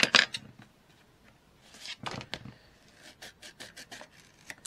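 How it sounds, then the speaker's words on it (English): Craft foam cut down to size with scissors: a sharp opening snip followed by a quick run of short, crisp cutting strokes, close and fairly quiet, with no voices. "Cut this form down."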